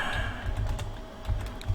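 Someone types on a computer keyboard close by, with irregular clusters of clicking keystrokes separated by a short lull and no talking.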